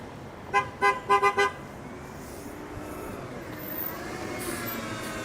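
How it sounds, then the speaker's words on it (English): Five short horn toots sound in quick succession from a bus nearby on a Miami street, followed by a steady outdoor traffic rumble. "Bus driver just gave me a honk."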